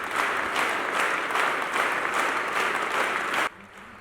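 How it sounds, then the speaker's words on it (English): Sustained, record-setting applause from a large congregation at a Phaneroo Ministries gathering in Uganda, a dense, loud roar of clapping that pulses steadily before cutting off abruptly near the end, leaving a quieter room. "the sound of the applause had to remain above 80 decibels"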